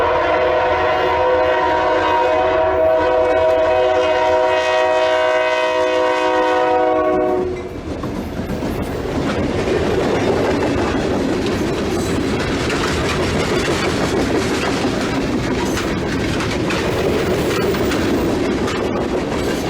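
An SD40-2 diesel locomotive hauling a coal train sounds a loud, sustained multi-tone horn for several seconds, then the horn cuts off and the heavy rumble and clatter of passing cars and wheels continues close by.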